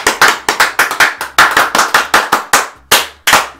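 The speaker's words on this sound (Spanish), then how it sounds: "Un aplauso para Gabriela Mena." A small audience claps for Gabriela Mena, about a dozen loud, sharp hand claps close by in a slightly uneven rhythm, with short gaps between them and no voices.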